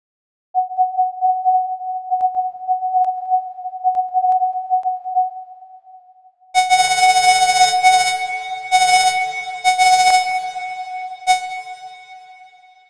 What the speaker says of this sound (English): Here it is used to compare the sound of sine waves versus square waves.